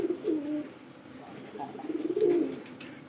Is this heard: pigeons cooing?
yes